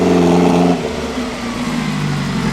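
A 1956 Ferrari race car being moved into place for a photo, its engine running close by with a steady mid-pitched drone that drops slightly in level after a moment and carries on, no talking.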